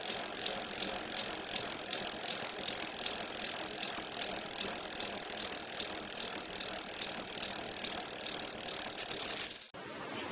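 A bicycle wheel spins freely after a flat tyre tube repair, making a steady, fast ticking whir that runs close and loud for about nine seconds before stopping abruptly.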